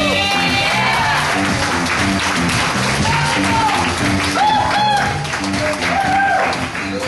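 Audience applause and cheering fill a comedy club after a stand-up set by comedian Bill Kay, steady clapping from a large crowd throughout, with scattered whoops and a voice faintly over the top.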